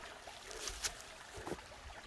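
A mountain stream flows beside a hiking trail on Geumjeongsan, a soft continuous babble and trickle of water with slight swells, heard outdoors from nearby.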